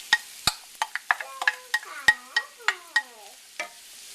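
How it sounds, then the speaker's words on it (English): Onions sauté in melted butter in a skillet for broccoli cheddar soup, heard as a string of sharp, ringing scrapes and taps of a utensil against the pan about twice a second, with only a faint sizzle beneath and no voices. "I'm going to add my onions and saute them until they're soft"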